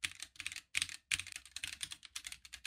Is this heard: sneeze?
no